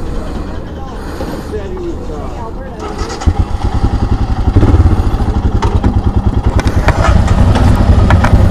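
A carbureted 2022 Royal Enfield Himalayan motorcycle engine idles close by, its steady rhythmic thumping growing louder and firmer after a few seconds.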